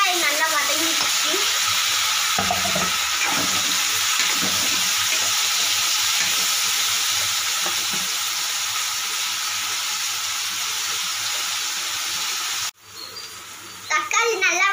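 Onions and tomatoes sauté in a pan for a tomato curry, giving a steady loud sizzle with some stirring near the start; a voice talks briefly beneath, and the frying cuts off abruptly near the end.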